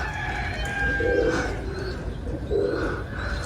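Pigeons coo softly in two low, throaty bursts against steady outdoor background noise, close by and unhurried.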